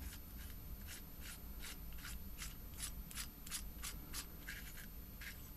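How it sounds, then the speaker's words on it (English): Fine metallic scraping ticks from a knurled nut on an airbrush being turned loose by hand, a steady run of about a dozen quick, close rasping strokes over low background hum, with no talking. "So I'm going to undo that knurled nut right out."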